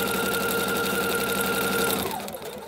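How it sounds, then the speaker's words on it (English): A sewing machine runs fast and close while chain-stitching paper-pieced quilt blocks, a rapid rhythmic needle hammering that winds down and stops near the end. "just push that one out of the way and start sewing again"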